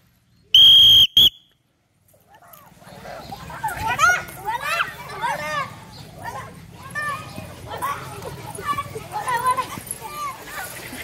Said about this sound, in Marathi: आता शिट्टी वाजल्यानंतर आपला खेळ सुरू आहे ना.